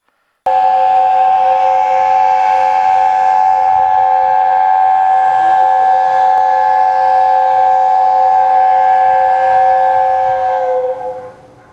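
The steam locomotive Tornado sounds its chime whistle at the Nene Valley Railway, one loud, sustained multi-tone blast held for about eleven seconds before it tapers off, with no one talking.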